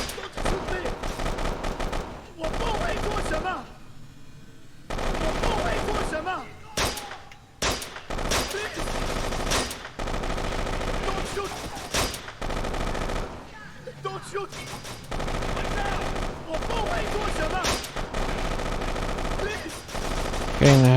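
Gunfire in the video game Kane and Lynch 2: Dog Days, with long bursts of rapid automatic fire and single shots in dense, loud clusters separated by short pauses, mixed with a voice talking over the action.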